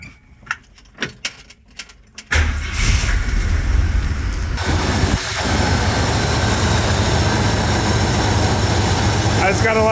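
A few sharp metallic clicks and rattles, then a neglected old Jeep truck's engine catches and settles into a loud, steady idle with a rough low rumble, running as if it has a vacuum leak.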